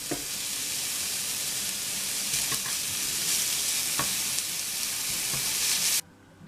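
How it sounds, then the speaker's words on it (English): Spicy sausage fries in a pan while being chopped into crumbles, a loud continuous sizzle with occasional sharp taps of the utensil against the pan, cutting off abruptly near the end. "you just keep chopping it like this till it gets small and into crumbles to your liking"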